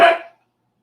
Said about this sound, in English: My dog is barking at the wind.